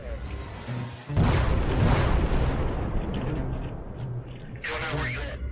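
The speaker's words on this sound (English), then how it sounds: "A massive explosion tears through the darkness behind him, lighting up the sky and swallowing everything in its path." A massive explosion at night, caught on police bodycam, erupts suddenly as a loud, deep boom followed by a sustained roaring rumble that slowly fades, with a second burst of noise near the end.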